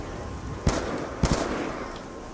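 Two sharp, loud gunshots from a gun in Call of Duty: Black Ops II Zombies, about half a second apart, standing out over a steady rumbling game background.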